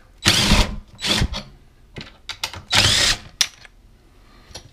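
A router cuts a door hinge recess with a jig in several loud, close bursts of high-pitched whirring as it passes back and forth through the wood, separated by short pauses.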